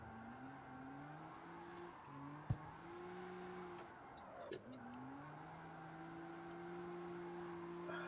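A car in the street-racing game CarX Street holds a steady engine drone while drifting, with brief revving dips and a couple of sharp clicks, faint and continuous throughout.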